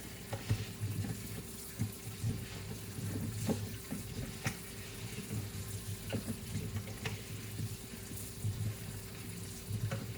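Running tap water splashes steadily into a sink with occasional clinks and knocks as items are washed, fairly quiet and close.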